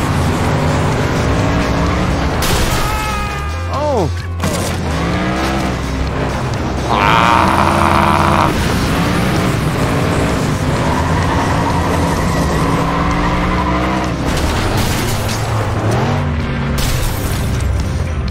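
A car races and crashes in the FlatOut 2 video game, with a loud engine roaring steadily throughout, rising and falling with the gears, with skids and a heavy impact partway through and brief exclamations over it.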